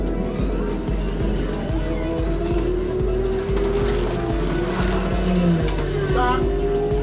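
Slot cars buzz around a home track in a birthday race, a steady electric whine with rhythmic ticking as they lap and rising pitch sweeps through the corners, while people chat nearby.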